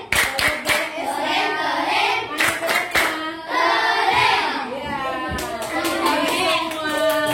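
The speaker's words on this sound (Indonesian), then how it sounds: "Tepuk keren untuk Esra" A class of children doing a rhythmic 'tepuk keren' clapping cheer for a classmate, sharp synchronized claps in bursts alternating with children chanting together, close and lively in a classroom.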